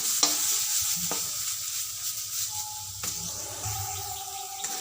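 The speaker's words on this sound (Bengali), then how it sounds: "আমার পটলটাকে কষে নেওয়া হয়ে গেছে এবার আমি গ্যাসটাকে অফ করে দেবো" Pointed gourd is stir-fried in a pan on a gas stove, with a continuous sizzle under sharp scrapes and clacks of a spatula against the pan, all close and fairly loud.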